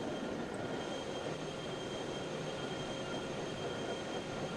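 Train running in the railway game Locomotion, a steady continuous rumble of rolling stock with no talk over it.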